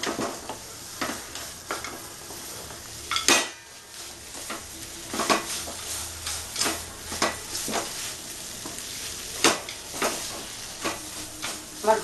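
Jackfruit chop filling with roasted peanuts is stirred in a pan, with repeated crisp scrapes and clanks of a utensil against metal, spaced rhythmically over a low, steady frying sizzle.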